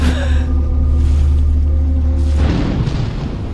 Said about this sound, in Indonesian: Melanie berhasil melompat ke laut tepat sebelum ledakan menghancurkan kawasan tersebut.